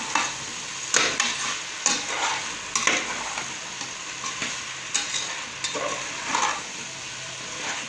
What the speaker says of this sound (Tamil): எல்லாமே நல்லா கலந்து விட்டுக்கலாம்.